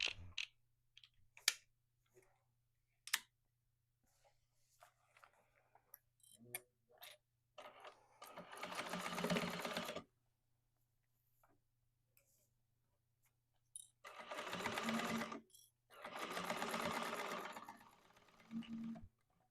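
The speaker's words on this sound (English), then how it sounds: "it's a little bit more awkward to top stitch because we're kind of top stitching in a loop here" A sewing machine top stitches a sling lining in a loop, with short whirring bursts separated by quiet pauses and scattered ticks and clicks of handling fabric.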